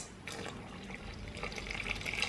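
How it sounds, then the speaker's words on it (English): Water poured into a pot of Jamaican chicken soup, a soft steady trickling and splashing that gradually builds over a couple of seconds, quiet and close with no talking. "So what I'm gonna go ahead and do now is add some more water onto this,"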